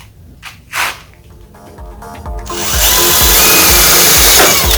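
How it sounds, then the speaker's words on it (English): A power drill fitted with a smaller bit bores into metal and wood while building a towing bracket for a tiny house trailer; a few short handling knocks come first, then the motor whines loud and steady for about two seconds. "I'm going to continue with smaller drill bit."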